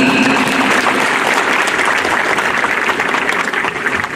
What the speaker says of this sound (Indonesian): Kita berikan aplaus yang luar biasa dulu